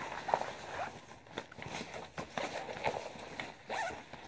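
Soft zipping sounds from a travel backpack zipper repeat several times at close range, rasping strokes with small handling rustles between them and no talking.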